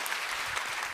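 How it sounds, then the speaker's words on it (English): An audience at the Nordic Fe:male Invest Summit 2022 claps in a brief, dense burst of applause that fills the moment without any talking. "Let's give them a round of applause."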